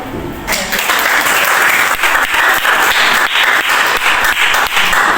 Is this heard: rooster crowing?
no